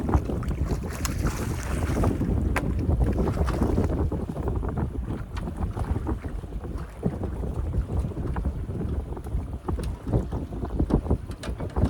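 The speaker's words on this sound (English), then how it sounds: "Yep, here comes them waves." Waves slosh and slap against a small fishing boat on open water, with strong wind buffeting the microphone throughout; a steady, close, churning wash with occasional sharper hits and no talking.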